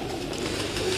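Pigeons coo softly at a pigeon keeper's loft, a low continuous murmur of birds over steady background noise, with no one speaking.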